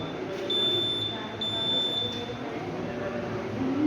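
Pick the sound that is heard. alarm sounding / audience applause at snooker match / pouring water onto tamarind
alarm sounding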